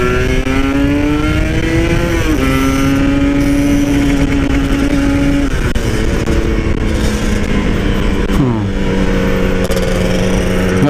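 Stock, unmodified two-stroke motorcycle ridden on the road, its engine buzzing loud and close, rising in pitch through the gears with drops at each shift.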